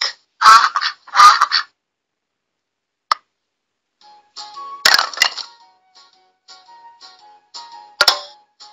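Duck calls from a children's animal-sounds puzzle come as a few loud nasal squawks early on, then softer chirps and clicks scattered through the quiet.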